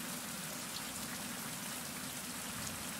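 Steady rain pours down in the survival video game Survival: Fountain of Youth, a dense, even hiss of drops hitting surfaces that holds unbroken for the whole stretch with no voices over it.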